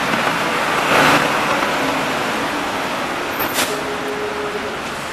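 Steady city traffic rumbles along a street in central Shizuoka, a dense continuous wash of passing cars with a brief louder swell and a faint high squeal, no talk.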